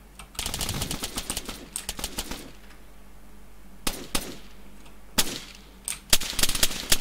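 Sharp bursts of gunfire from the military shooter Arma 3, with scattered single shots and short rapid volleys, some close and loud, others more distant, spread across the whole stretch.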